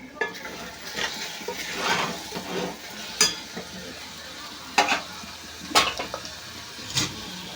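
Brinjal fries in a pan while being stirred, giving a steady sizzle broken by several sharp scraping strokes of a spatula against the metal, close and fairly loud.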